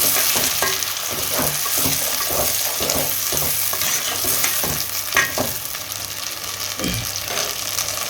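Tomatoes sautéing in a pan for a homemade drumstick fish curry, with a loud, continuous sizzle and frying hiss and occasional stirring scrapes and clinks close by.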